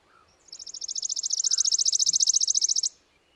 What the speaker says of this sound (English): that last one was a worm-eating warbler, so very thin, hard to hear. It's kind of insect-like.